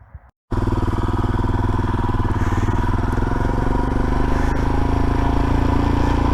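A Royal Enfield Himalayan motorcycle, just fitted with two new brake calipers, starts off and rides away after a brief quiet moment, its engine loud and close with a steady, throbbing drone that holds for several seconds.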